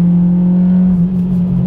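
A Honda Civic Type R EP3 with a Spoon exhaust pulls hard in sixth gear, giving a loud, steady, droning engine note with a strong constant tone that holds close and unbroken for the short stretch.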